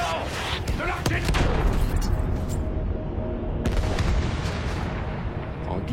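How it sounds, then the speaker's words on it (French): Artillery fire in a World War I film set on the Somme front: deep booms and blasts, with a few sharp heavy impacts standing out over continuous battle rumble, fairly distant and mixed with voices. "Attention! De l'artillerie!"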